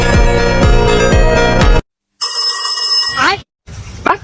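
A telephone rings loudly and repeatedly, with a sharp metallic bell-like tone broken by brief gaps and joined by clipped, distorted bursts of sound.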